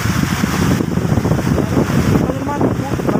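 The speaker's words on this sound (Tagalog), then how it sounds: "Malakas ang hangin" Strong typhoon wind roars steadily and loudly against the microphone, with gusting rumble and rushing noise throughout, and faint voices barely under it.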